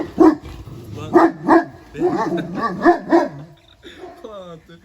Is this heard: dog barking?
yes